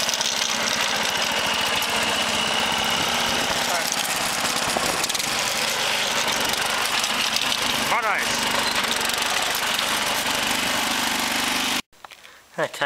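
A lawnmower engine on a test run with retreaded wheels drones loud and close without a break, then cuts out abruptly near the end.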